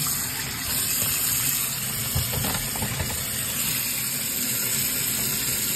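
Kitchen tap running in a steady gush as dyed Aida cross-stitch fabric is rinsed under it, with soft splashing and sloshing of the cloth in the stream, close and continuous with no talk.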